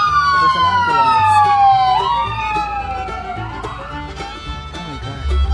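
A loud emergency siren wails nearby, its pitch sliding down and rising again, with a second siren tone overlapping.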